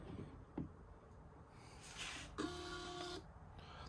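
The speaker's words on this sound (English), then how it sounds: "The printer's just saying it's ready to crank." A small built-in printer on a DCT500v3 rotary engine compression tester prints its ready-to-crank message, a faint thin whirring and buzzing with a few short clicks, then a steady mechanical whine for roughly a second that stops abruptly.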